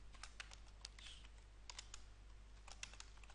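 Computer keyboard typing C# code, light clicky keystrokes in quick irregular clusters, close and quiet over a steady low hum.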